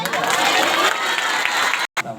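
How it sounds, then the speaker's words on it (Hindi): An audience at a Hindi-language Christian sermon claps in a dense, continuous patter with some crowd noise, breaking off abruptly near the end. "ताली बजा के"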